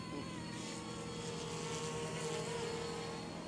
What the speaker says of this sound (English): So we're gonna see how fast this heli can go here in high mode.